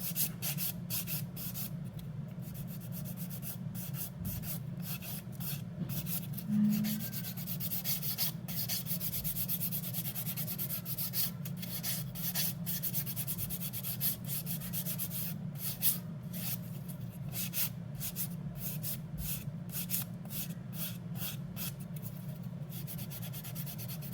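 Nail file rubbing steadily against an acrylic nail with glitter to shape its apex, a soft continuous close-up scraping that runs alone throughout.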